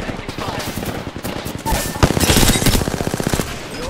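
Gunfire in the video game Apex Legends: loud rapid automatic bursts that build into a dense stream of shots in the second half, close and punchy.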